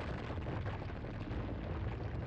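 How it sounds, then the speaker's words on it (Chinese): Water rushes into a cave passage beneath a tidal spring pool in China, making a continuous deep roaring rumble that is steady and unbroken throughout. "村民们听到的轰鸣巨响，其实就是水流在快速进入洞穴通道时发出的声音"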